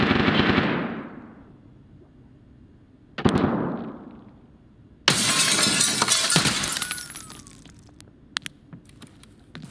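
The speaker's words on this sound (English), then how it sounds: "finally some gunshots after all this time." Gunfire in the video game Escape from Tarkov comes as three sharp, loud bursts with echoing tails that fade out. The last burst is followed by a longer crackling stretch and a few faint clicks; no one speaks.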